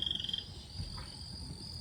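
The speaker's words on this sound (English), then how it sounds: "And I hear frogs" Frogs croak inside a flower conservatory greenhouse, a quick run of rhythmic pulsing calls at the start over a steady background hum and faint dripping, then the croaking stops.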